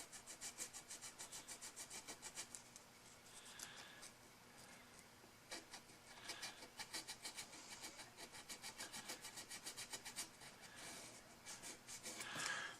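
Fine 600 grit sandpaper rubbed back and forth over the frets of a 2013 American Special Strat, a fast, steady rhythm of soft raspy strokes, faint and close, with no talking.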